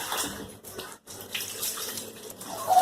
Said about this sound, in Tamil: தண்ணி ஊத்தி இந்த மாதிரி குளிக்க வைக்கிறது